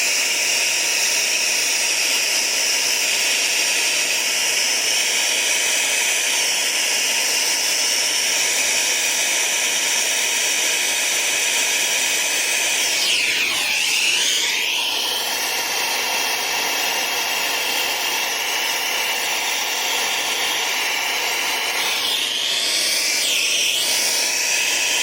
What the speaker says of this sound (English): Y'all see how it takes longer to heat up with this turbo torch?